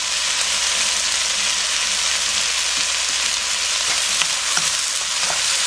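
Steady sizzling of japchae ingredients being stir-fried in a hot pan, with occasional scraping clicks of a utensil, continuous and close.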